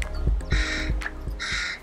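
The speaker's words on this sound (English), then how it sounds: "Can you hear or see crows in your neighborhood?" Two harsh bursts of crow cawing, each a run of rough calls about a second apart, over a low background rumble outdoors in a residential neighborhood.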